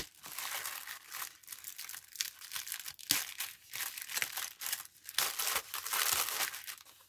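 An advent calendar package being opened, its plastic and paper wrapping crinkling and crackling in close, irregular bursts, with tearing sounds between them.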